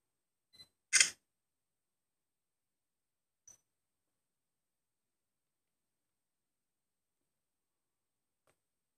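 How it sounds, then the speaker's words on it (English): A Sony Xperia Z1 phone camera gives one sharp shutter click, preceded by a faint tick and followed a few seconds later by another soft tick, all in near silence. "The camera is very fast in taking pictures, in focusing and so on."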